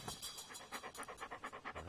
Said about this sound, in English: Listen, there are dogs.